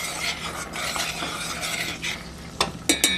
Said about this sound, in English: now that this is hot, I'm going to come with my garlic and I'm just going to add it in there. Give it a nice stir.